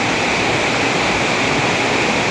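Heavy rain pouring down in front of a house, a dense, loud, unbroken hiss of falling water with no voices.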